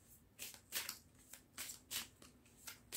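Tarot cards being handled and laid out, giving a series of soft papery swishes and flicks in irregular bursts, close and fairly quiet, with no speech.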